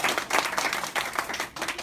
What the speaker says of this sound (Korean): 단골 모델님 위해서 박수 한번 치시죠